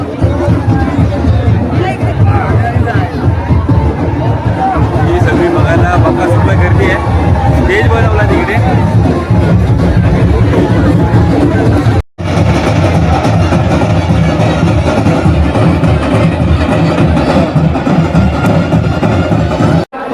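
A dense crowd murmurs and chatters at an agricultural fair in Konkan, gathered around a famous racing bullock, a loud, constant babble of many overlapping voices with one short break partway through.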